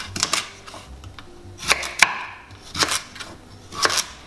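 A knife chops unpeeled vegetables roughly on a cutting board for a slow-cooker chicken soup: a few short bursts of sharp, close knocks with brief pauses between them and no voices.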